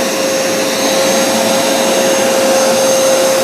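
A Bissell Crosswave or Hoover Smartwash wet floor cleaner runs loud and close while cleaning up grape juice, its motor giving a steady broadband whoosh with a constant high whine, unbroken throughout.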